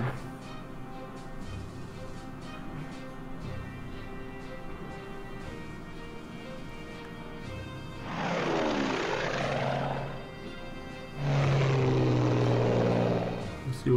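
Aircraft in the WWII strategy game Strategic Command pass by as two loud engine roars, each swelling and fading over a steady droning background with no talk.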